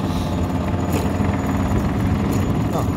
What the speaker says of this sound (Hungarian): hogy belerúgsz és indul az a motor